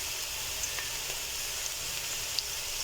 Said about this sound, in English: at this point is when I add my cumin seeds